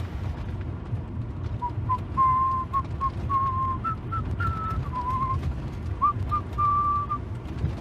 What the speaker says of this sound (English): I wasn't William Tell, you were whistling.